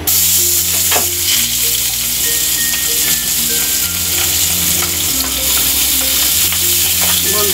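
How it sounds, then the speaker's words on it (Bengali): Pabda fish fries in hot oil with a loud, dense sizzle and constant sharp spattering pops, close up and continuous, no voices. "বন্ধুরা, এই মাছটা একটু ছিটে, যে কারণে আমি একটু ঢাকনা দিয়ে ঢেকে দিলাম।"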